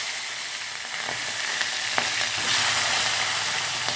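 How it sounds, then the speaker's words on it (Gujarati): Mustard seeds, cumin and mixed vegetables frying in a pan give a constant close sizzle with scattered small pops and crackles. The sizzle grows slightly louder toward the end, and no one speaks. "રાઈ ઉમેરશું અને જીરું અને આપણે આ મિક્સ જે શાક કર્યું હતું તે ઉમેરી દઈશું"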